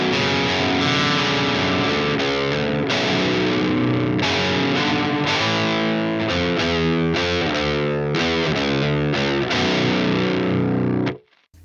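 Electric guitar played through an Engel Savage overdrive with a Jens Bogren impulse response, a thick, saturated distorted tone with sustained chords and rhythmic riffing, loud and alone before cutting off abruptly at the end.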